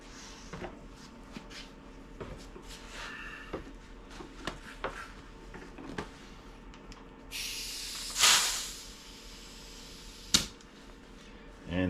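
An air compressor hisses as it inflates the tire of a 1970 Schwinn Collegiate bicycle, with small clicks and handling noises before a loud burst of rushing air and a sharp pop near the end.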